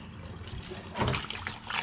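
Liquid pours into a Chevrolet Monte Carlo during a tune-up, a soft trickling splash that swells partway through and stays at moderate level over a faint background.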